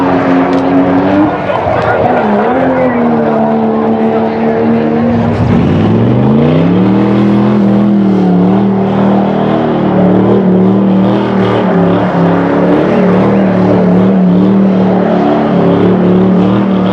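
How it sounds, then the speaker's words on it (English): Car doing burnouts at an American classic car and rat-rod show, a loud engine revving up and holding high with sustained roar and tire noise, close and continuous, with people talking over it. "You want burnouts? Because they've got burnouts."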